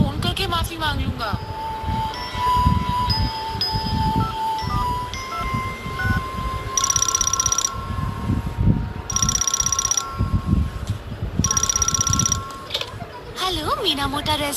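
A telephone rings in a Hindi-dubbed Doraemon cartoon, sounding four short, bright bursts at regular intervals over busy background sounds.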